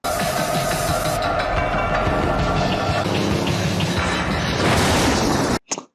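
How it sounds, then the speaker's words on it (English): A huge explosion in the 1984 film The Terminator, a loud, sustained roaring blast with rumbling debris that cuts off abruptly near the end. "That's a huge explosion."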